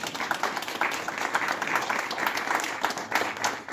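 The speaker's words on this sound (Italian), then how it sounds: "fatevi un bel applauso perché ve lo meritate" Applause at an award ceremony in Bologna as residence staff are honored with a prize; a steady, moderately loud round of many hands clapping, sustained throughout without talk.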